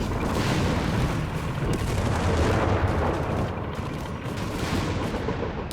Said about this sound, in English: Comes the bombarding.